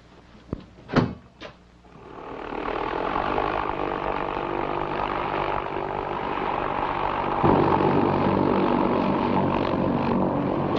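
A small private propeller aircraft flies as a steady, loud engine drone, entering after a couple of sharp knocks and then holding continuously to the end.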